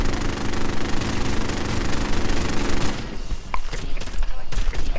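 In the Call of Duty: Modern Warfare video game, a small gun fires in a dense, loud run of rapid shots for about three seconds, then thins to scattered sharp reports against the game's background sound.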